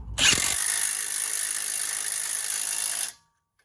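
A Milwaukee power tool drives a 21 mm strut bolt on a 2010 GMC Acadia's front driver-side strut, giving a steady, loud mechanical whir and ratcheting buzz that runs about three seconds, then cuts off abruptly.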